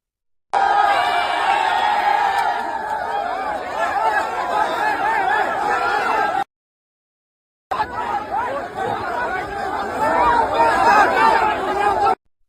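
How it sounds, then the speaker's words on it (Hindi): Loud chatter and babble from a large crowd of young protesters at a demonstration site in Jaipur, Rajasthan, with scattered laughter, broken by a short silent gap before the hubbub resumes. "प्रदर्शन स्थल पर बड़ी संख्या में युवा आंदोलनकारी मौजूद थे।"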